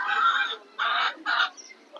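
Chickens clucking at a bird park, three close, loud clucking calls in quick succession, each lasting about half a second, heard alone without talk.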